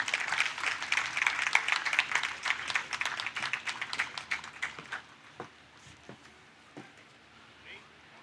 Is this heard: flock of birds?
no